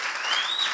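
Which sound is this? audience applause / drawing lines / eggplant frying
audience applause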